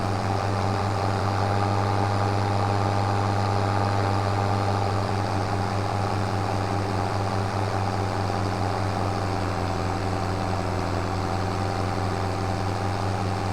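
A tractor engine in the video game Farming Simulator 25 drones steadily throughout, a low constant idle-like hum with an even pitch, close and unbroken, with no talk.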